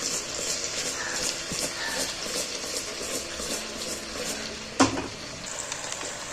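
Sweet potato pieces with sugar are stirred in a pot, making a steady soft sizzling and scraping hiss throughout, with a single sharp clack of the spoon against the pot near the end.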